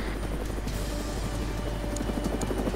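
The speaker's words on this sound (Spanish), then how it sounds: "Ese helicóptero que está sobrevolando la zona." Helicopter passing over the area in the video game ArmA III, a continuous rotor chop heard at moderate distance with faint higher clicks and no speech.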